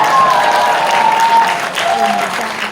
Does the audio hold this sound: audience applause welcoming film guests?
yes